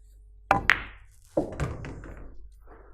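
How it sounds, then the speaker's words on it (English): A cue strikes the cue ball for a draw shot on a pool table, making a crisp click and a quick knock of balls colliding, then another sharp clack and softer rolling knocks, all close in a quiet room. "we're gonna draw a little back and play the 4 ball into the same pocket"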